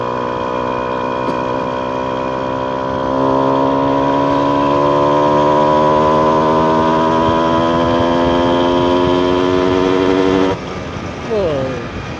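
A Yamaha F1ZR motorcycle two-stroke engine drones steadily at high revs while riding, its pitch holding then briefly shifting near the end, loud and close.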